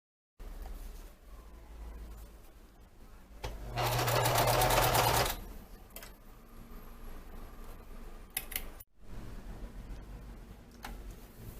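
A sewing machine stitches along a folded fabric edge in one loud, fast whirring run of a couple of seconds, framed by quieter handling and shuffling of the cloth.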